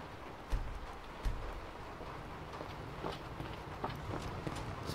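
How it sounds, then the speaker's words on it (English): Rain falling in the Skyrim video game world, a soft, steady hiss of light rainfall with a few scattered dull thuds and footstep-like taps, faint and continuous with no speech. "Is that rain that I'm hearing?"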